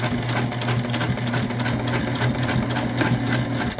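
Sewing machine stitching a fabric book bag tote, a close, steady mechanical whir with fast regular needle thumps running without a break, alone with no talking.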